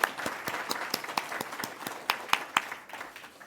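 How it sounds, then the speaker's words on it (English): Audience applause at the Nova Scotia Digital Inclusion Awards ceremony, close and fairly loud, with distinct individual claps popping out of a steady clapping wash for a few seconds. "we'll give one more round of applause for DataGuide Technologies"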